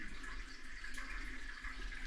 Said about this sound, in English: you can see water coming out right there